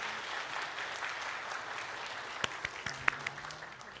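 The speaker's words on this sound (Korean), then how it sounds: "우리 박수로 축복해 주시기 바랍니다." A church congregation gives a warm round of applause during a Sunday service, a steady even patter of many hands clapping at moderate distance, with a few sharper claps near the end.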